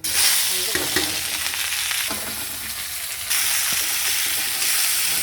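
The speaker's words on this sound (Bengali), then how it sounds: "পেঁয়াজটা একটু ভাজা ভাজা করে নিয়ে" Onions frying in a pan with black cumin tempering, a loud, close sizzle with stirring clatters and scrapes that grows brighter partway through.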